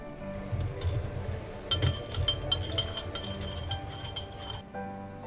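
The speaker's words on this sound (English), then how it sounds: "I'm going to give that a little stir with the ladle here." A ladle clinks against a glass bowl of flaming rum punch with oranges, a series of irregular close metallic taps and knocks over a soft liquid swirl.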